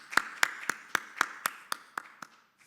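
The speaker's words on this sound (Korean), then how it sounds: "우리 사랑하는 우리 피영민 목사님을 우리 뜨거운 박수로 환영하도록 하겠습니다" A church congregation claps to welcome the pastor with about ten sharp, evenly spaced claps that are clear and close and fade out after a couple of seconds.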